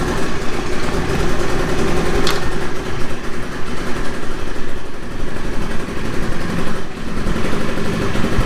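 A 2012 Kymco Like scooter engine idles just after starting, a close, steady, low puttering drone that runs unbroken throughout.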